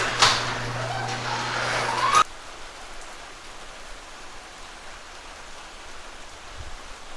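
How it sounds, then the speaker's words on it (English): Rain falling outside a garage in Austin, a steady hiss of drops that is louder and brighter for the first two seconds, then settles into a softer, even patter. "Also, it's raining today in Austin,"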